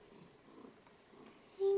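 A cat purrs softly and close by, a faint, low, continuous rumble, broken near the end by a sudden steady tone.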